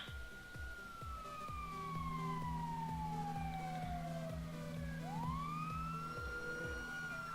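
A police car siren in the GTA 5 video game wails and sweeps up and down over a rhythmic engine throb, moderately loud and continuous.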